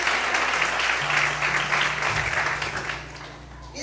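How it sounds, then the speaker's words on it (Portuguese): A congregation claps and applauds during a church sermon, a sustained wash of hands that tapers off toward the end, with a low voice or tone beneath. "Mais aplausos ao Senhor, aleluia."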